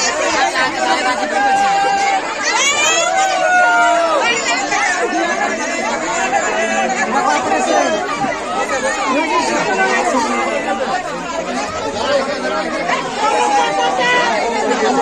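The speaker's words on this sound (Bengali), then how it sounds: "গ্রামের মানুষ ট্রেনে উঠে খুব আনন্দ করছে" Excited villagers chatter loudly aboard a new passenger train near Bara Gopinathpur on the Bishnupur–Jayrambati line in West Bengal, many overlapping voices forming a dense, continuous babble close around the listener.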